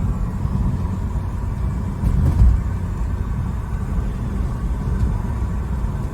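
A 1998 BMW 328is five-speed, a salvage-auction car long left parked, cruises in fifth gear with a steady, low engine rumble and road noise, swelling slightly for a moment midway.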